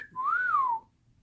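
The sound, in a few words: mustache parakeet whistling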